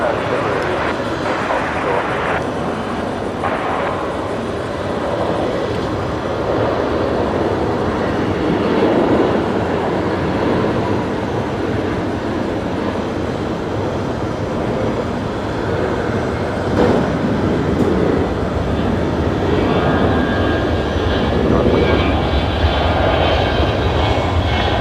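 A Qantas airliner starts its takeoff roll on Brisbane's runway 01 right, a steady broad engine roar that holds throughout, with radio voices talking over it.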